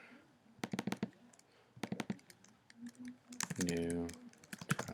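Computer keyboard keys clack in quick irregular clusters, close and crisp, with someone talking briefly amid the typing.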